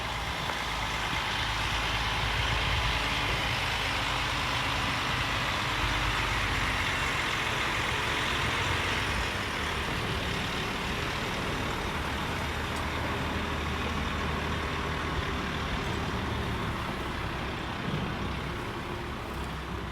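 A truck engine runs steadily at close range, a continuous low rumble and broadband roar holding level throughout with no talk over it.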